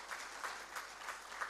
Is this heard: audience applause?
yes